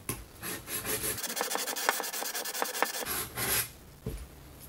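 A steel wood chisel rubbed back and forth on a coarse abrasive to take off the burr, a close, fairly quiet scraping rasp repeated in short strokes with no voice over it.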